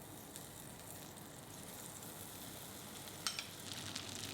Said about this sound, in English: Heat pan on medium heat and add 2 tablespoons of butter.